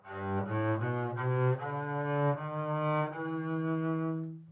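A chamber bass sample plays a short passage of deep, plucked notes, each distinct and sustained, moving in a steady rhythm before fading out.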